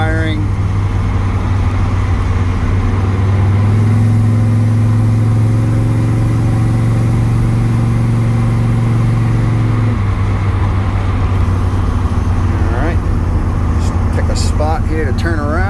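A 1955 Ford F-100 hot rod with a properly jetted carburetor idles loudly up close, then rises briefly in a rev and settles back down, with someone talking over it.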